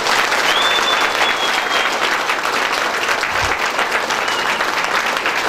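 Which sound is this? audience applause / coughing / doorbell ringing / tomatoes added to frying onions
audience applause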